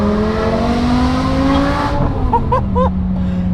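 A modified BMW M5 Touring's V10 engine revs up and then drops sharply on a downshift with quick throttle blips, loud and close from inside the car.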